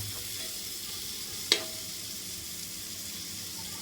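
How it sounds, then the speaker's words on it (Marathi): Masala fries in a pan with a soft, steady sizzle throughout, interrupted by one sharp tap near the middle. "आता आपण याला थोडं व्यवस्थित फ्राय होऊ देऊ"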